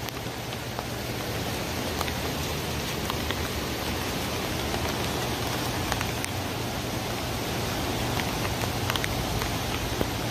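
Rain-swollen creek in Santa Rosa, California, raging after a storm: a loud, dense, unbroken roar of rushing water, steady throughout with no voices.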